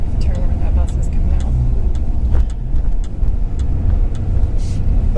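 A bus drives past on a road, a steady low engine rumble heard from inside another vehicle, with someone talking over it.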